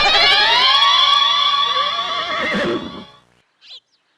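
A cartoon horse gives a loud, drawn-out whinny that trembles for about three seconds and then fades, followed by a short faint sound.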